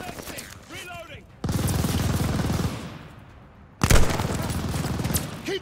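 Tower machine gun fire in the Call of Duty Vanguard game, dense sustained bursts in two long loud stretches with shouting voices between and over them.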